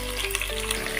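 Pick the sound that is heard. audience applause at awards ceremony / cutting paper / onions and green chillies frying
onions and green chillies frying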